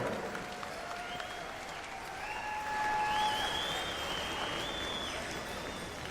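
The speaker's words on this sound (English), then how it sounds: "One more time, a round of applause, my friends, right here." A crowd applauds award recipients at the Gathering of Nations powwow, a steady wash of clapping that swells slightly midway, with faint whistles or whoops above it.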